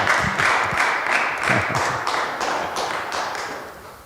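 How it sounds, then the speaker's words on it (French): A church congregation claps for the Lord in a steady rhythmic beat, about three sharp claps per second, loud and close at first and gradually fading toward the end. "Let's cela. clap for the Lord"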